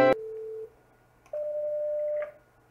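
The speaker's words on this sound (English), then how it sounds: "So we're currently calling the desk phone" Ringback tone while calling a Cisco desk phone: a short harsh blip, then two steady electronic tones, each holding about a second with a pause between, clear and close.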